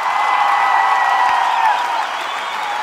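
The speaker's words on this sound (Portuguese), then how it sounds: "tem que ser uma enorme, enorme salva de palmas" Large live concert audience applauding and cheering, a loud, dense and sustained wash of clapping and crowd noise throughout.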